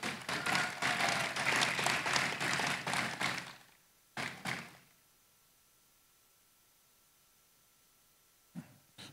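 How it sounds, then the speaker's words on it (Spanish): Applause from an audience at a municipal accountability event, a burst of clapping for several seconds that fades out, a brief second flurry, then near silence with a faint thump at the end. "Un fuerte aplauso nuevamente para la Secretaría de Salud"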